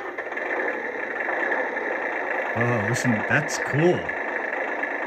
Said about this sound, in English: That really has a clankety-clank sound of a real diesel engine.